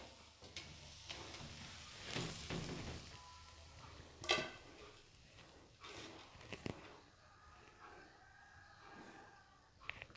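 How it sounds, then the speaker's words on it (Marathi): Rice flour dosa frying in a pan, a low steady sizzle running throughout with scattered clicks and scrapes of a spatula, one sharper scrape near the middle. "आपला डोसा छान असा भाजला गेलेला आहे।"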